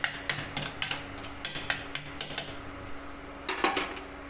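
Egg and ridge gourd being chopped and stirred in a pan, a quick run of close, sharp metallic taps and scrapes of a spatula on the pan, clustered in bursts over a steady background hum.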